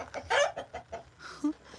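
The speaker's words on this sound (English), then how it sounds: "Here is the chicken." Chickens in a village coop cluck in short, separate bursts, with one louder squawk near the start and softer clucks following, close by and fairly quiet.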